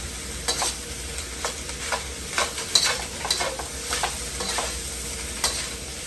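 Leftover turkey and ham fried rice being stirred and tossed in a hot pan, with a steady sizzle and repeated scraping strokes of the utensil at an uneven rhythm, close and fairly quiet, no talking.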